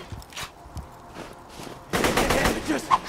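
Rapid automatic gunfire from a hard-recoiling gun in a video game, starting as scattered shots and building to a loud sustained burst, with a voice speaking alongside.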